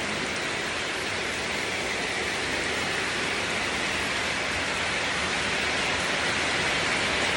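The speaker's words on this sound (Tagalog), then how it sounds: "This is our bukid pag malakas ang ulan." Heavy rain pours steadily over a farm field, a dense, even roar of water hitting ground and plants that stays constant and close throughout with no other sounds.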